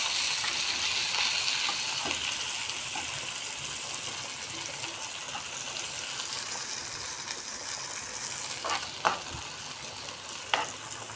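Chopped onion and small raisins fry in butter for a beef biryani, a steady close sizzle with occasional stirring scrapes and clinks of a utensil against the pan.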